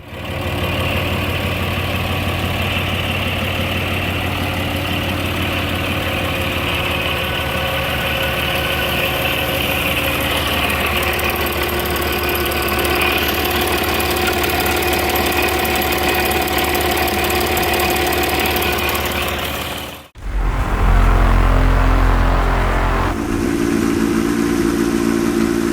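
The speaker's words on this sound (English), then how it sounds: "It's designed for military machinery, ships, submarines, and heavy industrial equipment." A big industrial engine built for military machinery, ships and submarines idles loudly with a steady low rumble and knock, then cuts out briefly and restarts with a deeper, heavier throb.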